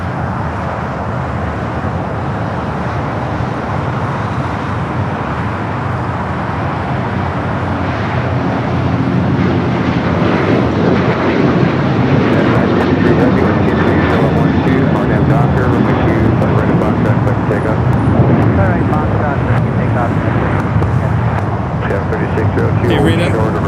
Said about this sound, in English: the next takeoff heading to Chicago O'Hare, flight 2718, also an American